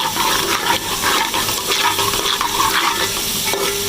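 Onions fry in a pan while being stirred, a steady loud sizzle with scraping and occasional clinks of the spoon running throughout, no voices.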